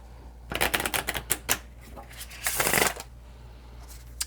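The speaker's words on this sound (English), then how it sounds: "while I shuffle and select cards" Tarot cards being shuffled up close, a quick burst of flicking riffles followed by a longer rushing shuffle, then quiet.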